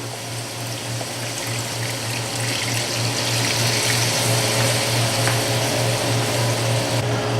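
Beef stock is poured into a hot pan, a steady close liquid rush over a continuous low hum, sustained and fairly loud with no speech.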